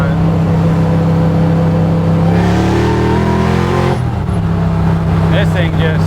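A supercharged 1967 Camaro restomod with a Wegner LSX 427 V8 roars loudly and rises in pitch under acceleration, heard from inside the car, then drops off abruptly as the throttle lifts.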